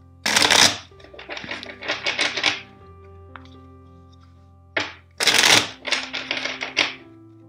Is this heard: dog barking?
no